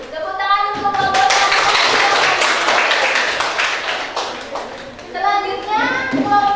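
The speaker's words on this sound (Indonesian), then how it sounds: "Tepuk tangan untuk kelompok" Classroom of vocational school students clapping for a student group: a burst of loud, brisk clapping from many hands mixed with children's voices, with speech heard before and after it.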